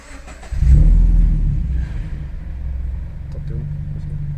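A Toyota GT86 TRD with a manual gearbox fires up, its engine catching with a loud rumbling burst then settling into a steady low idle, with people talking nearby.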